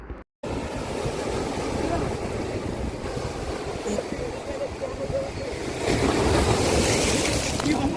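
Sea waves at Pondicherry beach rolling in continuously, a broad surf wash with wind buffeting the microphone, swelling louder toward the end.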